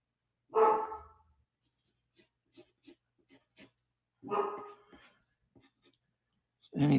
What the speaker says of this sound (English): there's my dog in the background again, barking at something